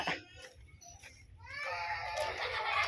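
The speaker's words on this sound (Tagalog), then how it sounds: "Nagiiyakan na agad ang mga bata." Children in a busy household wail, the crying swelling loud and continuous through the second half after scattered quieter sounds at the start.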